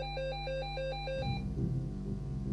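A mobile phone ringing gives a regular beeping tone pattern for about a second before being cut off by a louder, muddled background noise.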